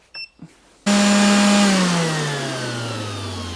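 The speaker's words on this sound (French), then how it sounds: "On commence avec la ponceuse." An electric sander drawing about 300 watts, powered by an EcoFlow Delta Pro battery, switches on abruptly after a couple of faint knocks and runs with a loud steady whine that slowly drops in pitch as it winds down.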